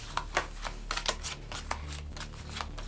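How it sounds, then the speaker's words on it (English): A deck of cards for a Marvel Legendary game being shuffled up close: a steady run of quick riffling flutters and soft snaps, repeated bursts filling the whole stretch, with no voices. "I put the twist in there, so you should shuffle. And then I'll shuffle"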